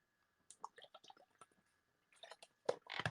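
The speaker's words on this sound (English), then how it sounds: "Please excuse me, I just need to have a sip of water." A quiet, close sip of water with small wet slurping and swallowing sounds, soft clicks and mouth noises, heard alone without talk.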